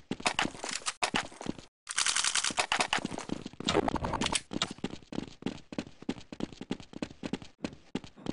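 AK rifle gunfire in a video game: rapid, sharp bursts of automatic shots in quick clusters separated by short gaps, close and crisp, with a steady run of single shots toward the end.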